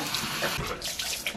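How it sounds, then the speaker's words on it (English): A running water tap rinsing a facial cleansing spin brush, a steady close splashing stream with small splatter bursts as the brush moves under the flow. "And then you just run it under the water"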